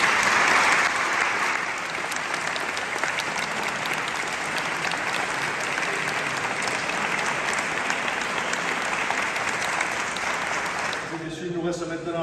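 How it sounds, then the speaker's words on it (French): A church congregation applauds at the solemn Mass blessing a new organ, steady broad clapping filling the nave for several seconds before trailing off into quieter sounds at the end. "Je crois qu'on peut l'applaudir ici."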